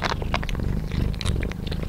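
A cat chews and swallows a treat close by, with soft wet crunching and licking sounds and faint purring running through the short stretch.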